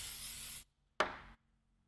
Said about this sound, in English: give all the screws a quick spray with silicone